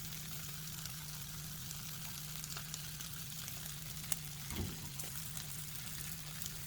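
Wild edible patties frying gently in a pan over low heat with little or no oil, a faint steady sizzle with a brief soft scrape partway through.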